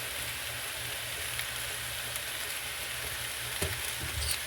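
Chopped onion going into a hot pan with ginger for shrimp fried rice, a steady, fairly quiet sizzle that holds throughout, with a couple of soft stirring bumps near the end.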